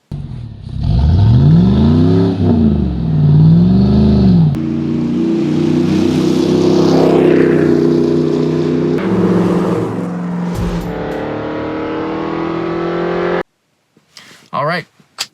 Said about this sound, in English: So the muscle truck, this Tahoe with a 3-inch exhaust.